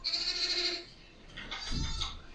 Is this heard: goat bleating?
yes